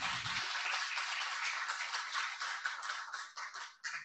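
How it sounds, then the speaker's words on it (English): An audience claps together in sustained applause for a speaker at a Python meetup talk, steady and moderately near, with no voices over it. "in a moment, I'm going to ask you to clap"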